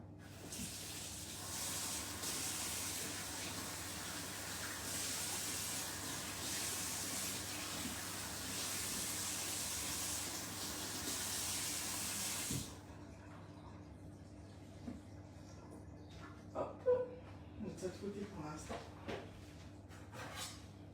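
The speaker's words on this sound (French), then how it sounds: "tu prends le moule dans lequel tu vas faire ta bûche en silicone et tu le rinces aussi" Tap water runs steadily over a silicone log cake mould in a kitchen for about twelve seconds, then stops, followed by a few faint clinks and handling sounds.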